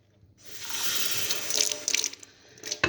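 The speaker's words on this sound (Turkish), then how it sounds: "ben 3 su bardağı su döküyorum" Water pours steadily into a pot for a Turkish semolina syrup dessert, three glasses added to sugar, a continuous splashing gush that swells and then trails off into a few drips and clinks near the end.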